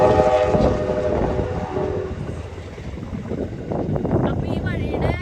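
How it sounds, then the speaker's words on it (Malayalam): A train rumbles past in the background near a sunflower field, a broad steady roll with a horn-like tone early on, while a person talks over it nearby. "ബാക്ക്ഗ്രൗണ്ടിൽ ട്രെയിൻ പോകുന്നുണ്ട്."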